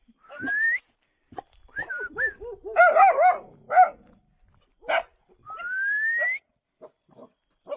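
A Kangal dog yelps and barks in short bursts at night, mixed with high rising whistles and whimpering tones, fairly close and loud with brief pauses between.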